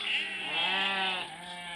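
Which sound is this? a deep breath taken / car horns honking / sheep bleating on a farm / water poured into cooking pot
sheep bleating on a farm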